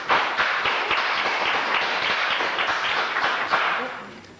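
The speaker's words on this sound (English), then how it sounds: "Could we have people not be applauding for everybody?" An audience at a council meeting claps in a sustained round of applause, a dense patter of many hands that holds steady and then fades out near the end.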